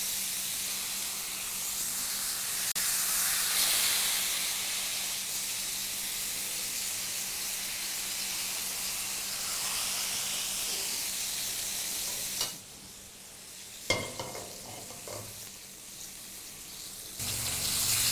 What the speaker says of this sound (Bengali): কাজে ভেতরটা সুসিদ্ধ হওয়ার জন্য একটু বেশিক্ষণ ভাজতে হবে।